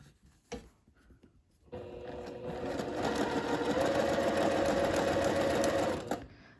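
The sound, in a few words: sewing machine top stitching a hem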